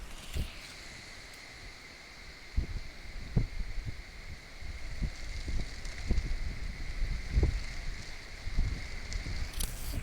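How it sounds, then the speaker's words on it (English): Wind blowing outdoors, gusting against the microphone in irregular low thumps and rumbles over a steady airy hiss, with no talking. "It's pretty windy."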